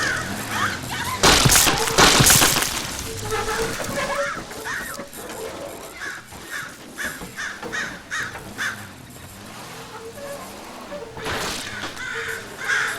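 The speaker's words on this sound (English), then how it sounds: "Follow the crows." Crows caw repeatedly in a video game, with loud splashing and sloshing water early on and a voice speaking over parts of the scene.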